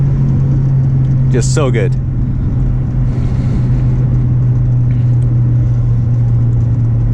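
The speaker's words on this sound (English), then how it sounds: "There we go. First gear VTEC." 2004 Honda Civic Si pulling in first gear with VTEC engaged on an uphill, heard from inside the cabin as a loud, steady engine drone, with someone speaking briefly over it.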